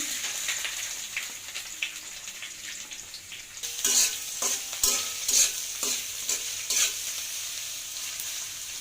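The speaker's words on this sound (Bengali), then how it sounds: "পেঁয়াজগুলো একটু ভাজা ভাজা হয়ে আসবে লাল লাল হয়ে আসবে" Chopped onions sizzle in hot oil in a home kitchen, a steady low frying hiss broken by a series of sharp scraping stirs of a spatula against the pan, close and without talk.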